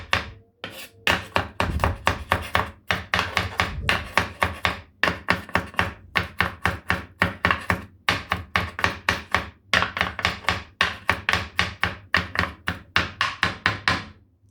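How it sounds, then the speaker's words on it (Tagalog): Rapid knife chopping of a large amount of garlic on a cutting board, a steady run of sharp close thunks repeating quickly and evenly for the whole stretch with no talking. "mag-chop tayo ng maraming bawang"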